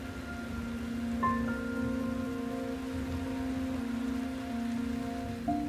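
Rain falls steadily in an Australian eucalyptus forest, a soft continuous hiss of drops throughout. A low sustained tonal hum runs beneath it.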